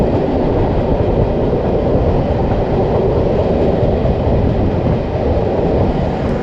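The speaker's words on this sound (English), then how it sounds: "that's the interior of this Soviet train" Inside a moving Soviet-built train carriage in Serbia, a steady loud rumble of wheels and rattling wagon fills the space continuously, with no speech over it.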